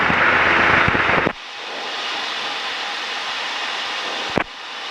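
Engine of a Cessna 152 in flight: a steady, loud droning cabin hum of airframe and propeller noise, with brief radio-like clicks and a shift in tone partway through.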